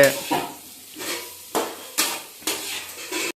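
Potatoes with chili powder stirred in a pan, a sizzle under about six distinct scraping strokes of a spoon against the metal, close and fairly loud, ending abruptly.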